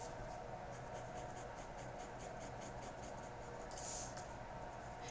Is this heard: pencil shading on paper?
yes